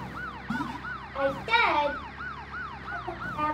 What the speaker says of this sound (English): Get the police car.